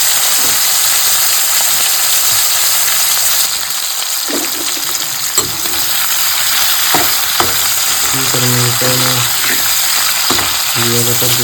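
Chicken sizzling and frying in hot oil with onion, a steady loud crackle throughout with occasional stirring clatter and brief tonal kitchen sounds.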